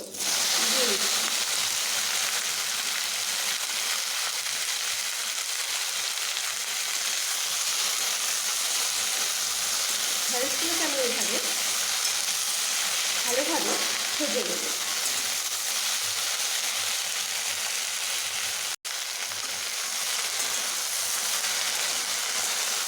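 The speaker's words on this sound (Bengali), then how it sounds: "এবার আমার তেল গরম হয়ে গেছে আমি নুন হলুদ মাখিয়ে যে ঢ্যাঁড়সগুলোকে রেখেছিলাম সেগুলোকে আমি এখানে" Okra coated with salt and turmeric fries in hot oil in a pan, a steady close sizzle and crackle throughout with occasional faint stirring clatter.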